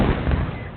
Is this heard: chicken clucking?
no